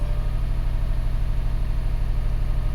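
A 2012 Subaru engine with a misfire idles steadily, a low even rumble with a regular pulsing throb and no other sounds.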